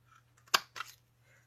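Scissors trimming a paper banner strip: two quick, close snips in succession against a quiet background.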